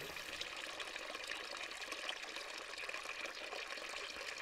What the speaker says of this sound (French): On va boire à la fontaine.